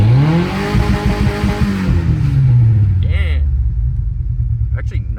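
A Ford Ranger 2.5L with its exhaust deleted revs up loud and raspy, the engine note climbing then falling back to a rough idle with a slight misfire.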